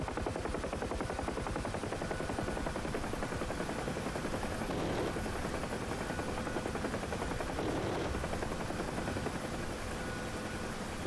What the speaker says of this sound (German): Der Helikopter ist bald in Schussweite.